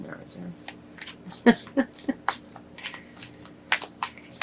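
Lenormand fortune-telling cards, an expanded edition, are shuffled and handled in short papery flicks and slaps, a series of close crisp snaps spread irregularly, with a brief bit of speech over them.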